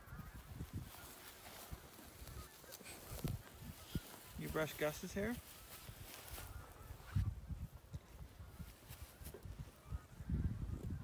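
A large flock of geese honks in the background at a farm near a pig pen, with faint, distant calls under close conversation and a brief, clearer burst of honking partway through.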